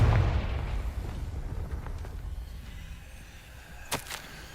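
A Confringo spell explosion in the Hogwarts Legacy video game opens with a loud booming blast that rumbles and fades, followed later by a couple of sharp, brief cracks.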